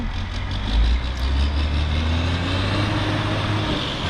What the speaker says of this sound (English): So guys, we've got this truck trying to turn up here.